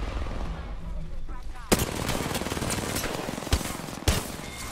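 Gunfire in Apex Legends, with loud bursts of automatic fire and a few sharp, distinct shots standing out over busy game noise.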